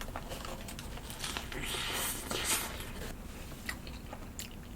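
Someone chewing discounted roast chicken, soft close-up crunching and squishy bites, faint and continuous over quiet room noise.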